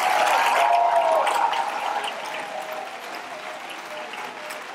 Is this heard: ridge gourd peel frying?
no